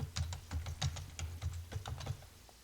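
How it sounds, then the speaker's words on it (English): Quick, irregular clicks of keys on a computer keyboard as a password is typed, close and clear in a quiet room, about a dozen and a half strokes in under three seconds. "Type in my password."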